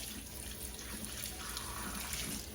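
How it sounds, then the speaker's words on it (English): Tap water runs steadily into a sink as blender parts are rinsed, a continuous close splashing hiss with small shifts in the flow and no voices. "Rinse out everything visible."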